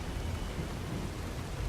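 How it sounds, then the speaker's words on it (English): Heavy rain pours steadily in the video game Fallout New Vegas, a loud, dense, continuous wash of broadband noise with low rumbling underneath and no talk. "I know it's pretty quiet because the rain is insanely loud."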